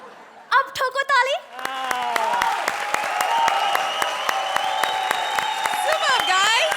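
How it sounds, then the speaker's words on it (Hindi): A studio audience at a comedy show claps in quick, crisp bursts beneath loud voices and laughter, the clapping continuing steadily to the end. "अब ठोको ताली"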